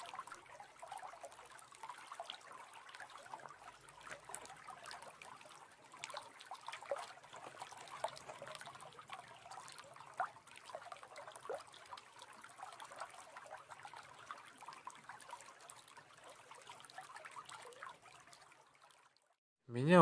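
A small stream in a snowy winter forest trickles and babbles at a soft, even level, then a brief loud bump cuts in at the very end.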